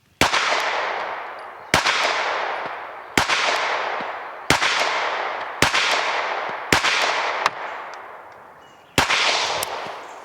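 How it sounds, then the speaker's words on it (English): A Springfield 15-round pistol firing at an outdoor range, seven sharp, loud shots spaced about one to two seconds apart, each followed by a long fading echo. "these new 15 rounders from Springfield, these things, they let you get a lot of shooting in with a little pistol"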